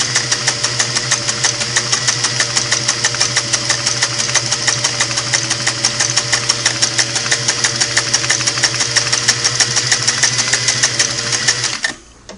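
A restored Singer 503A sewing machine runs steadily through a zigzag stitch at a close setting of about 12 stitches per inch, its fast rhythmic motor hum and needle clatter loud and unbroken until it stops at the end.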